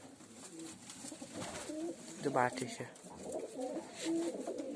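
Pigeons, including young ones, coo softly in the background while someone speaks briefly in Polish nearby, the low coos repeating throughout.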